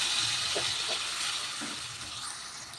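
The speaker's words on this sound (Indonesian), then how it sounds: "tumis bumbu yang sudah dihaluskan" Ground spice paste sizzles in a little oil in a wok, a steady close hiss of frying with faint clinks, no talking.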